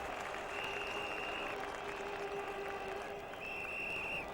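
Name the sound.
cricket crowd cheering for batsman Courtney Walsh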